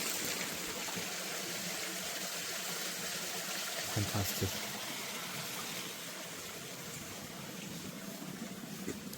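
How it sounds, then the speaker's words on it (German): Running water splashes and rushes steadily outdoors on Madeira, a continuous broadband wash with a brief voice partway through. "hört man das schöne Geräusch, das Wassergeräusch"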